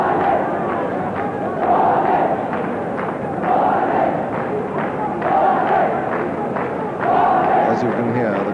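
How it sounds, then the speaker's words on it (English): A cricket crowd at Sharjah during the 1994 Pakistan versus New Zealand semi-final chants in regular rhythmic surges about every two seconds, loud and massed, with a commentator talking over it. "As you can hear, the crowd in tremendous form, led by our old friend, the Old Testament prophet."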